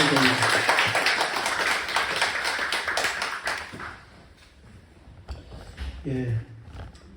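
Church congregation applauding in thanks, a dense continuous patter of many hands for several seconds that fades out, followed by a voice speaking.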